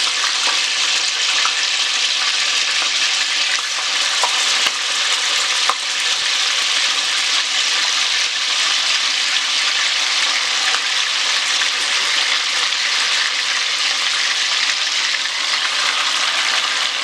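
Bitter balls and chocolate fry together in a pot of oil, a dense, loud, unbroken sizzle and crackle that holds steady throughout, with no talking.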